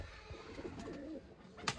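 A pigeon coos faintly in low, wavering phrases beneath a background hum and hiss, with a sharp short click or thump near the end.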